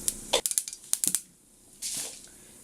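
Mustard seeds popping in hot coconut oil for a Kerala seasoned buttermilk tempering: a quick run of sharp, close crackling pops, a quiet gap, then a short hissing burst, all without speech.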